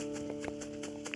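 Hooves from a galloping horse in the video game Equestrian the Game thud in a quick, soft rhythm beneath steady game music, fairly faint, with no speech.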